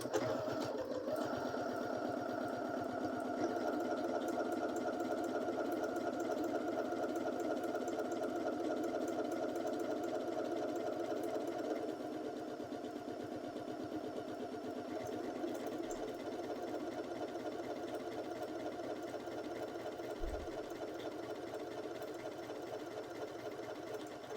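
A Janome 6700P sewing machine stitches a beefy buttonhole in one steady, continuous whir that holds at an even level for the whole stretch, with no talking.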